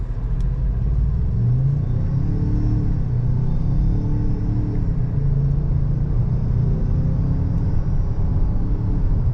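A 2021 Ford Bronco Sport Badlands pulls away in sport mode, its engine a steady, low droning rumble inside the cabin that rises gently in pitch and holds at a constant loudness, with no talk.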